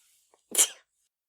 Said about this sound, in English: I was holding that sneeze in, and I couldn't hold it in anymore.